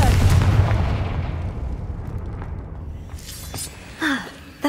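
The Confringo blasting spell goes off in the Hogwarts Legacy video game as a loud, close explosive burst that rumbles and slowly decays, followed by faint game effects and a couple of short whooshing pops.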